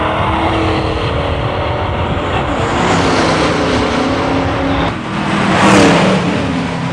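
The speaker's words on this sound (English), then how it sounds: "Tom Smicks in an 86 Buick running Bill McCurl's Mustang GT" A 1986 Buick and a Ford Mustang GT at a drag race: loud, continuous roar of high-revving engines at full acceleration, with a brief dip and then a surge as the cars pass close by.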